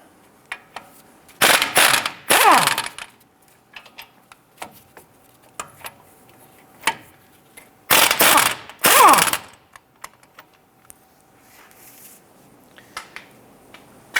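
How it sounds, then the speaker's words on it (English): A ratchet with a 21mm socket loosens the caliper bracket bolts on a 2002-2008 Dodge Ram 1500, heard as two loud bursts of rapid clicking ratcheting separated by quieter scattered tool taps and clinks, close by. "Using a 21mm socket, let's go ahead and remove the two caliper bracket bolts"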